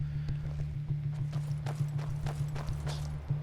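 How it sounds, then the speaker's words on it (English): Horse hooves clip-clop in a steady trotting rhythm in Skyrim, fairly close and moderately loud over a low droning hum, with no talk. "we'll be able to chase down that horse"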